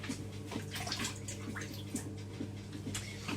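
Water splashes and trickles in a kitchen sink as hands are washed, a continuous close running-water wash with small irregular splashes and no talking.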